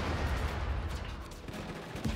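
Heavy cannon fire from a tank in Just Cause 3, sounding as a dense, continuous rumble of blasts and explosions that stays loud across the whole stretch with no talking.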